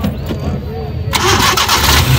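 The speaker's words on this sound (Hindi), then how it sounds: "स्टार्ट कीजिए इंजन थोड़ा सा" A Suzuki Ravi pickup's engine cranks and fires up at an outdoor car bazaar, settling into a loud, steady running rumble close by, with people talking over it.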